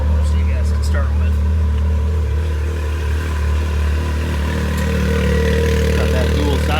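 Can-Am X3 side-by-side engine running through a dual side exit exhaust, a steady close and loud low rumble throughout with light mechanical clatter and talk mixed in.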